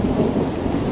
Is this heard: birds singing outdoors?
no